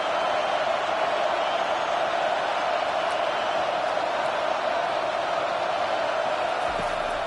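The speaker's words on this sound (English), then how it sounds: "Decibels rising as the crowd gets behind this defense on third down." A football stadium crowd roars before a third-down play in a Penn State versus Ohio State game, making a constant, dense wash of loud noise that holds steady throughout.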